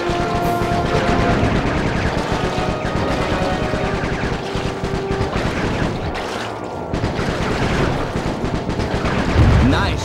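Rapid gunfire in the Sly 3: Honor Among Thieves video game, dense overlapping bursts of shots rattling continuously for about ten seconds over game music and effects, with occasional heavier booms.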